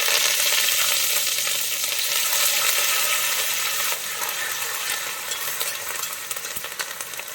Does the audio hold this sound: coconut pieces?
yes